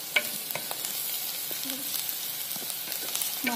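Masala being sautéed and stirred in a clay pot for Maharani dal, giving a soft, steady sizzle with occasional scraping strokes, fairly quiet and without talk.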